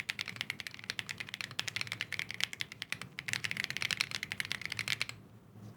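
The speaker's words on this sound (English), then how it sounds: "Now give it a listen to what this sounds like with just the tape mod and no" A Monsgeek M1 V5 mechanical keyboard with a tape mod and no case foam is typed on in a steady, quick run of crisp, clacky keystrokes, close and alone, with no talk.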